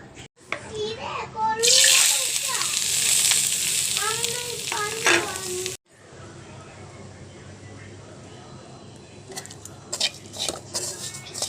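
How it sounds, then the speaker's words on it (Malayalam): Grated coconut roasts in a pan for a coconut fish curry, giving a steady sizzle with stirring and scraping; a voice talks over the first half, then the cooking continues more quietly. "തേങ്ങ തിരുവി വെച്ചിട്ടുണ്ട്, അതൊന്ന് വറുത്തെടുക്കാം."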